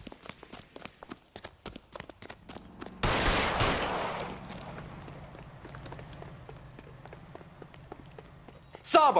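Gunfire in the video game L.A. Noire comes as a dense burst of loud shots in the middle, with sharp cracks and hoof-like clatter around it, then a fading rumble and another blast at the end.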